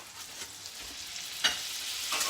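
Butter, about 15 to 20 grams, frying in a hot pan for a prawn and spinach curry: a steady soft sizzle with a few brief stirring scrapes, close and even throughout.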